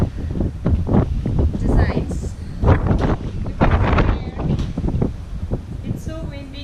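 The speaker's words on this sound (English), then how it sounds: "It's so windy here today." Gusty wind buffets the microphone at the Umm Salal Mohammed Fort towers in Qatar, built of coral rock and limestone, rushing steadily beneath a person speaking.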